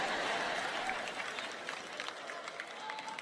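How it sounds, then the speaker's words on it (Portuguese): A seated audience at a church-style sermon event claps together in a dense, steady burst that gradually thins and softens, with scattered individual claps near the end. "Eu não pensei mesmo que haveria muitas pessoas batendo palmas por isso."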